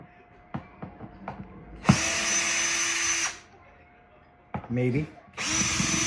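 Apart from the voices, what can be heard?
power drill removing screws from laser crate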